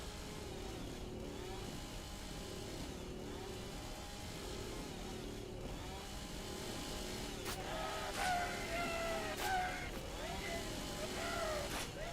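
An enemy's chainsaw in the horror video game Stay Out of the House drones steadily throughout, rising into several sharper revving bursts in the second half.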